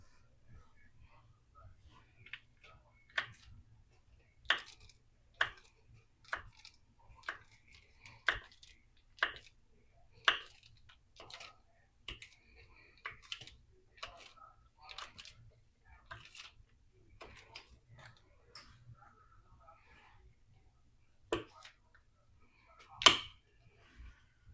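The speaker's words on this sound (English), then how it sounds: "And then just chop it to get pea-sized amounts." A knife chops cold butter into pea-sized pieces on a board, a series of sharp, quiet, evenly spaced taps with brief pauses between them, close and alone.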